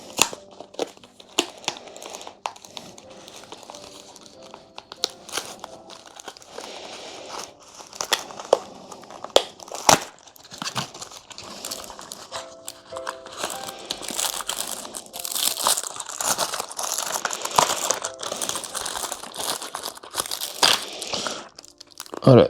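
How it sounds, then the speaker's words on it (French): Packing tape pulled slowly off a box, close crinkling, rasping tears and crackles in uneven bursts that grow busier toward the end. "On tire tranquillement le scotch."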